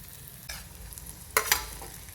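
Tomato pieces dropped into a pan of capsicum and onion frying for Maggi noodles, giving a faint steady sizzle with two or three soft clattering drops and stirs, alone and close.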